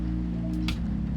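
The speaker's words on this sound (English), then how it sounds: "Plus, there's the rain." Rain falls steadily in the Coffee Talk video game, a continuous soft wash over a low background music hum, with a brief brighter splash near the middle and no talk.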